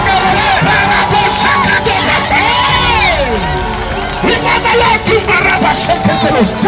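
A worship congregation cheering and shouting in acclamation, loud and continuous, with many voices whooping and yelling in overlapping rising and falling cries that fill the whole stretch.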